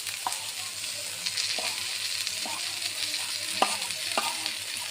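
Rohu fish frying in a pan with mustard paste being stirred in, a steady sizzle underneath and several sharp scraping strokes of the spoon spaced a second or so apart, close and clear with no talking.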